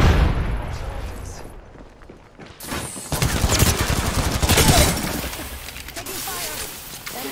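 Rapid bursts of gunfire and crackling shots ring out in an Apex Legends firefight, loud and dense throughout, with a softer lull near the start and a game voice heard under the shooting.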